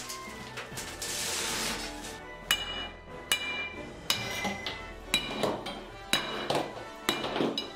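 A Thor hammer smashes through a house in the video game Bored Smashing, delivering a series of loud crashing impacts with clinking debris. The hits are close and come at a steady, repeated rhythm, with no talk.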